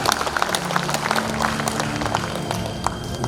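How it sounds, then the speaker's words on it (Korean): Audience applause at a Korean award ceremony for veterans in Sancheong County, a steady dense patter of clapping filling the room throughout, with low hum underneath. "박수 부탁드립니다"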